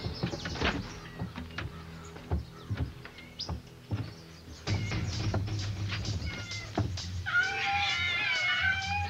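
Several cats meowing and caterwauling in a house holding many cats, with scattered cries through the first half, then denser yowls and a long high wavering cry near the end.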